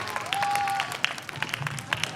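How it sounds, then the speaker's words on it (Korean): Students at an elementary school applaud a guest lecturer, with scattered, uneven hand claps and a brief whistle-like tone early on, fairly light and irregular. "우리 열강을 해주신 이낙연 강사님한테 다시 한번 뜨거운 박수 부탁드리겠습니다."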